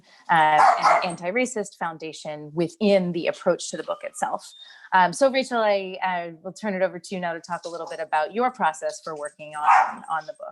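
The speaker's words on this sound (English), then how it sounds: "And sorry if you can hear my dog barking in the back." A dog barks in the background, intermittently, under continuous close speech from a woman discussing a book.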